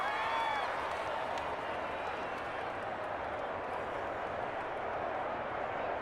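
Steady crowd applause and cheering from a packed stadium in the video game Madden 21, Raiders at Patriots, a continuous broad roar lasting several seconds.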